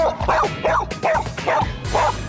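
Several dogs barking and yipping in quick repeated bursts, close and loud, with whimpery yelps between the barks.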